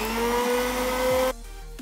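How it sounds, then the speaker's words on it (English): A countertop blender whirs loudly with a steady motor whine for over a second, then cuts off abruptly, leaving a lower hum as it winds down, while preparing margarita ingredients. "we can stick it on the blender to blend"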